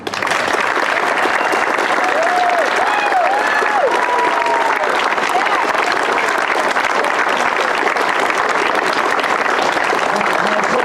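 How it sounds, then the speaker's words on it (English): Rally crowd clapping loudly and continuously, a dense sustained wash of applause with no break, while a voice faintly carries over it. "I want you guys to clap so that people can hear you and your"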